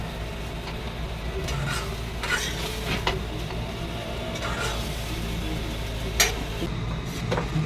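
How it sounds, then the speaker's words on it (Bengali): A spoon scrapes and clinks against a bowl while mixing mustard powder with sugar, an irregular series of light taps and rubs over a soft background hiss, close and without talk. "তো চিনি দেওয়ার পর এখন ভালো করে মিক্স করা হচ্ছে এটাকে"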